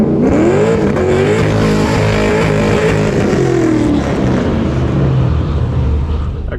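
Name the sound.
Corvette on drag radials racing at drag strip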